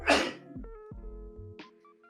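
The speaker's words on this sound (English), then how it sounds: "Hold on, I'm going to sneeze." A single sharp sneeze bursts out at the start, followed by a brief quiet vocal trailing sound.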